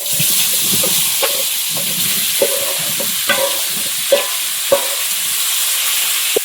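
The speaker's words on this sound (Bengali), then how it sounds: "কড়ার মধ্যে তেল আছে ওর মধ্যে এই আলু বেগুনগুলো দিয়ে একটু দেব" Potatoes and eggplant fry in oil in a wok with a loud, steady sizzle, broken by scraping stirs and clinks of a utensil throughout.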